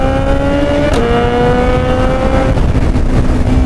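A 2025 Suzuki Hayabusa engine fitted with an aftermarket exhaust, loud and close, its pitch climbing smoothly then shifting as the throttle is twisted, with a sustained powerful drone throughout.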